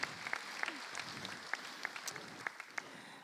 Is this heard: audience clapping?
yes